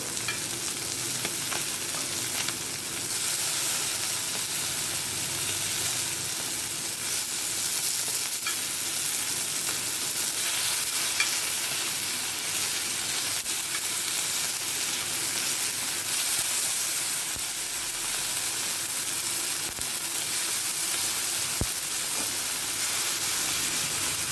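Swordfish pieces fry in hot oil in a pan, one side cooked and the fish turned over, giving a steady, dense, close sizzle that crackles continuously throughout with no talking.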